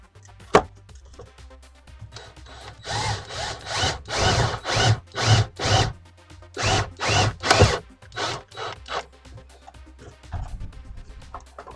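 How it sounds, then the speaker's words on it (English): A power drill whines in short bursts, driving a self-tapping screw into a Subaru Crosstrek's metal body with grinding, rising pulses, preceded by a sharp click and quiet pauses between runs. "Just make sure there's no wires back behind where we're drilling."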